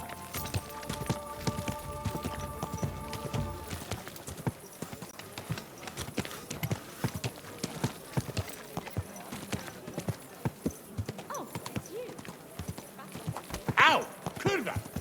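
Horse hooves clip-clop steadily in Kingdom Come: Deliverance II, a rhythmic run of close hoofbeats under game ambience, with a sharp cry near the end.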